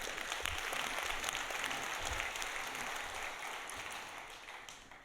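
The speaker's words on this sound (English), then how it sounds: "Another round of applause, please," A conference audience applauds a security demo at a European Microsoft Fabric community event, with dense, steady clapping from a large room that holds strong for several seconds before slowly thinning.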